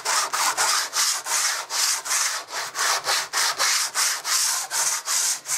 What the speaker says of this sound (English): I've started sanding them down.